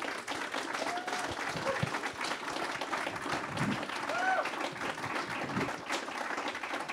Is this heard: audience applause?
yes